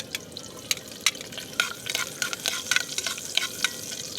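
Garlic sizzles in hot cooking oil in a small home kitchen while a ginataang langka dish is being made, with steady frying hiss and sharp crackling pops scattered throughout, no voices.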